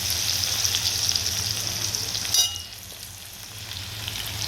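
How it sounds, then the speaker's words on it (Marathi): Potatoes fry in a pan for sabudana khichdi, a dense steady sizzle that drops off sharply after a brief clatter midway, leaving a quieter hiss. "तर इकडे मस्तपैकी बटाटे ना चांगले फ्राय करून घेते."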